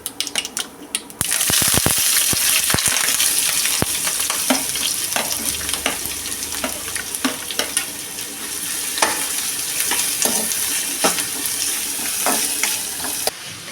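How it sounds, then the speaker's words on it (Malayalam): Onion, carrot, green chili and curry leaves hit hot oil for potato curry, giving a steady loud sizzle and crackle with repeated sharp stirring scrapes and clicks of a spoon against the pan throughout. "ഇനി അതിലേക്ക് അരിഞ്ഞു വെച്ചിരിക്കുന്ന സവാള ക്യാരറ്റ് പച്ചമുളക് കറിവേപ്പില എന്നിവ ചേർത്ത് കൊടുക്കാം"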